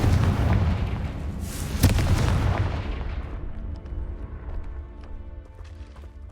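A Confringo fire spell explodes in the video game Hogwarts Legacy, a loud booming blast with a sharp crack partway through, then a long rumbling decay that fades to quiet debris-like rattles, with no voices.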